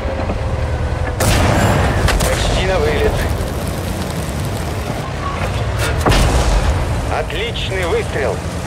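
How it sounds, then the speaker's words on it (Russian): A tank cannon shot in World of Tanks, fired from an LT-432 light tank, lands with heavy booms over a rumbling engine drone, with a sharp blast near the start and another later, while voices talk over it. "Отличный выстрел!"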